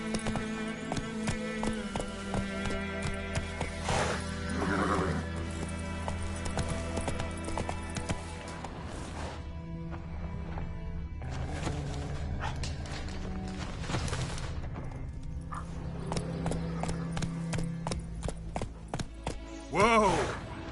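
Roach the horse galloping in The Witcher 3, rapid rhythmic hoofbeats running steadily under game music for most of the stretch, with a brief sharper sound near the end.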